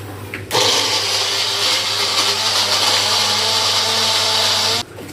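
A mixie grinds tomato, mint, coriander and green chillies with a loud, steady whirring motor hum. It starts abruptly, runs evenly for about four seconds, then cuts off.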